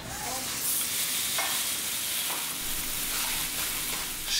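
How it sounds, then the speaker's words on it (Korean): Rice stir-fried in a pan with leftover spicy pork bulgogi, a continuous close sizzle with scraping stirs and light clinks of the utensil against the pan. "밥 볶아 먹으려고요."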